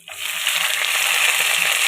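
Carrot added to hot white oil in a pan after frying nuts and raisins, an immediate loud close sizzle that rises sharply and holds steady, with no talking.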